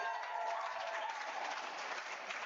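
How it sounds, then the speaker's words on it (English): A large Oregon State University crowd at a college racquetball championship match claps in a steady, dense wash of applause, sustained and fairly loud throughout with no pauses. "We got a huge OSU crowd here supporting Josh and Tucker. The Oregon signature clap."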